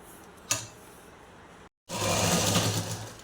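A sewing machine stitches a blouse lining: a soft close tap, a brief cut to silence, then a steady loud whirring run of stitching alone.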